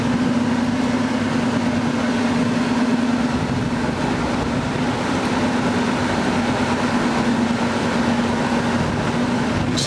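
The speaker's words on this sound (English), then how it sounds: "aside from a little tire noise, which you would expect on these all-terrain tires" A 2008 Chevrolet Silverado 2500HD Duramax diesel pickup on all-terrain tires cruising down a highway, giving a steady, loud road and tire roar with a constant low drone, heard from inside the cab with no talking.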